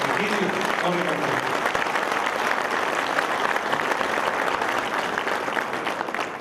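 Steady applause from an audience honoring the Tamaulipas state governor at a public event in San Fernando, dense clapping sustained throughout at a fairly close, even level.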